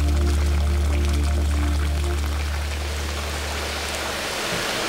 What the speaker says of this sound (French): on va mélanger l'eau chaude avec les différents maltes d'or